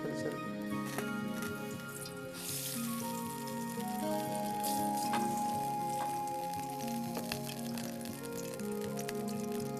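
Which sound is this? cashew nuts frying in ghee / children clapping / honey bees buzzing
cashew nuts frying in ghee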